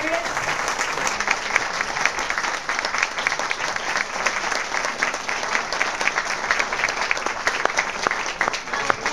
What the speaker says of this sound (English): Let's give a round of applause to all three candidates.